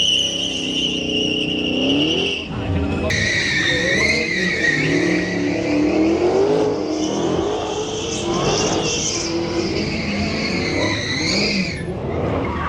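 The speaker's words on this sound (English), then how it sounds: "these Dodge thrill rides where they're drifting the cars around" Dodge cars drifting around a thrill-ride course, with continuous loud tire squeal and skidding over high revving engines, close by and sustained throughout.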